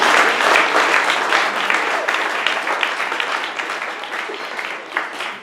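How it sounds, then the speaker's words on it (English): Students clap in a loud, dense round of applause at a school locker room grand opening, sustained for several seconds and tapering slightly toward the end, with some crowd murmur mixed in. "students, let's give the parents and everybody who did this a huge round of applause"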